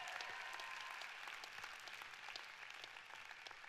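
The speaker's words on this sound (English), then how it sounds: "I think you need to give your leadership a really good round of applause" Conference audience at a direct selling event on the Gold Coast giving its leadership a sustained round of applause, a dense wash of many hands clapping at moderate distance, fairly quiet, with no clear speech.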